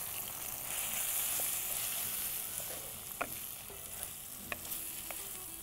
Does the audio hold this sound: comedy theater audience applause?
no